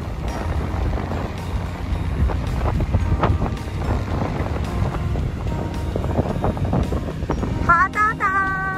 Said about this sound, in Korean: 바람 많이 분다.